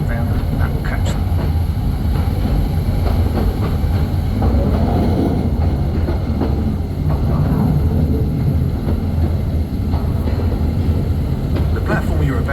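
Royal Mail Museum's Mail Rail narrow-gauge mail train runs along its track in a tunnel, making a steady, loud, close rumble with rattling wheel noise throughout, while muffled voices talk over it.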